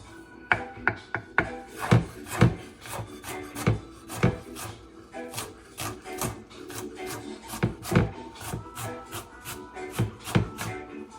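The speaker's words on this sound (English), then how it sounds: "This is a professional here chopping." A knife chops food on a wooden board in a home kitchen while Jamaican-style coconut dumplings are made, sharp irregular knocks in quick bursts and pauses, close and crisp with no talking.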